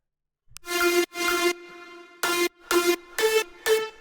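A dry synth lead made in FL Studio, with no reverb automation, plays a short melodic phrase of sustained, bright tones with clean gaps between notes and no lingering tail.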